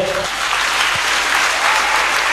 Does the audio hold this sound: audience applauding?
yes